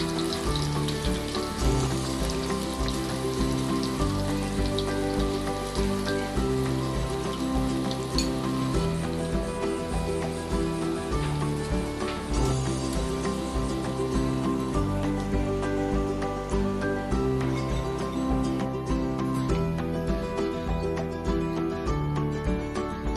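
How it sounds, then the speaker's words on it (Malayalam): Chicken pieces deep-frying in coconut oil in a pan on a stove for chicken kondattam give off a dense, steady crackling sizzle that stays loud and unbroken from start to finish. "അടുപ്പിൽ ചീഞ്ചിട്ട് വെച്ച് നല്ല വെളിച്ചെണ്ണ ഒഴിച്ച് നമുക്കിതൊന്ന് വറുത്ത് കോരിയെടുക്കാം"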